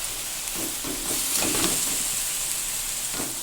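Chili, cumin and coriander powders hit onion and garlic already frying in oil, producing a continuous close hissing sizzle with a few soft stirring knocks.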